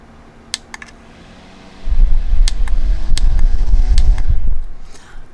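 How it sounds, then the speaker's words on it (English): An electric fan switches on partway through and blows steadily for a few seconds to dry watercolor paint, a close broadband whoosh with a low hum and a few light clicks, before winding down near the end. "And I use this fan."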